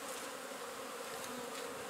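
Honey bees swarm and buzz around an opened hive during a spring beekeeping inspection in Swanzey, New Hampshire, a steady, dense drone that stays close and even throughout with no voices.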